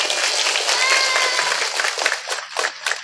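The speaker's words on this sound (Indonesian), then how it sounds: "tepuk tangan dulu dong" An audience at an Islamic religious lecture claps loudly in dense applause that thins into scattered, separate claps by the end.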